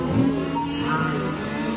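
Nitro engine of a 1/8 scale RC race car at a 12-hour endurance race in Saint-Affrique, buzzing continuously at high pitch and close by, filling the whole moment.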